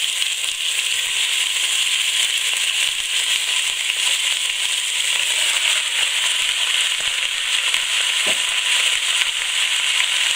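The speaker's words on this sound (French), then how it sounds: "Je vais mettre mes morceaux de viande à rissoler sur chaque face." Steady, dense sizzling and crackling of meat browning in hot oil for a daube provençale, close and continuous throughout with no talking.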